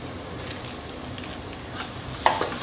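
Spiced curry with Kashmiri red chili frying in a pan, a steady soft sizzle with faint stirring scrapes and a single clink of a spoon near the end.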